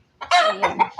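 Farm chickens clucking close by, a burst of overlapping clucks and squawks in irregular rhythm, with a brief word spoken at the start.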